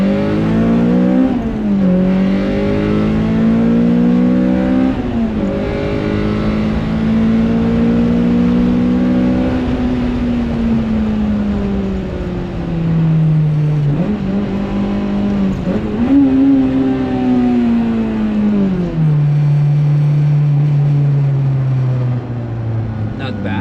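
A Honda Civic EJ1 fitted with a K20 engine revs hard through a tunnel, loud and close, its pitch climbing through the gears and dropping at each shift in repeated pulls, with some talking over it.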